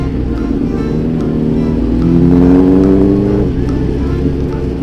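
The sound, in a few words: car engine accelerating in low gear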